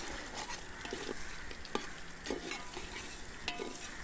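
Chili powder and spices frying in hot oil for a coconut-milk chicken pulao, a continuous sizzle broken by sharp scraping stir strokes at roughly regular intervals, close and without talk.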